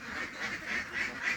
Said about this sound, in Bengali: এই আমার খামারের হাঁসগুলা একটু আগে ছাড়লাম